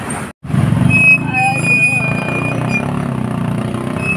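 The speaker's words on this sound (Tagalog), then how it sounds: "Papansin nyo, traffic." Congested road traffic in Taguig during a holiday handout, with loud idling and rumbling car, truck and motorcycle engines crowding the street, and a voice heard over the din.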